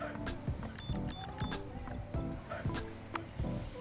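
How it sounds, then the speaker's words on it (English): A drone's landing gear retracts high in the air with a whirring motor, sharp mechanical clicks and ticks at an irregular rhythm, and rushing wind underneath. "Landing gear raising."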